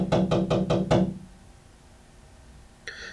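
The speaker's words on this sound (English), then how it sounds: "the police knock pretty loud on the window" Five loud, rapid knocks by police rap on a window glass, followed by quiet room hum and one sharp tap near the end.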